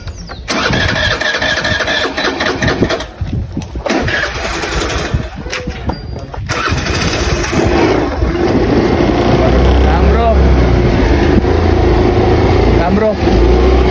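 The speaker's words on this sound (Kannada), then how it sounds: "ಈ ಗಾಡಿ ಸ್ಟಾರ್ಟ್ ಮಾಡಕ್ಕೆ ನೋಡ್ರಿ." A vehicle engine cranks and catches, then settles into a steady running idle that grows louder and fuller, with rumbling close by; voices chatter in the background throughout.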